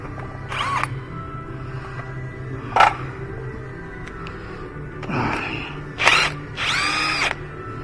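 A power tool, likely an impact driver, removes a brake caliper bolt on a 2018 Ford Transit during a front brake and rotor job: several short loud bursts of whirring and rattling, separated by pauses of quiet workshop hum.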